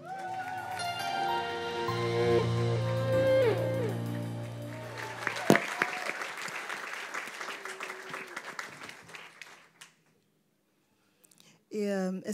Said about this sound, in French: Vous pouvez les applaudir, hein?